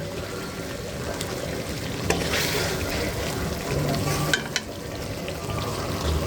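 Pabda fish sautéing in a pan, a steady close oil sizzle with occasional stirring scrapes and clinks running throughout.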